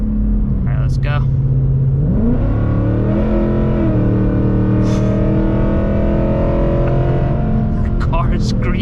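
A Ford Mustang GT S650 fitted with FBO modifications revs loudly while driving, its engine note climbing through the gears and holding a raw, buzzy roar throughout.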